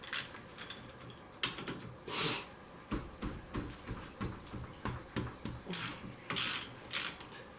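A hand wrench works 14 mm bolts loose on a Honda 250 Big Red, giving irregular bursts of metallic ratcheting clicks and scraping, close and fairly quiet, with brief pauses between strokes.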